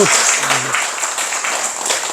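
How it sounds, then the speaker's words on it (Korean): At a Buddhist temple ceremony closing a retreat, a congregation claps for the ipseung bodhisattva, a steady, fairly loud patter of many hands right after a brief voice. "입승보살님한테 박수"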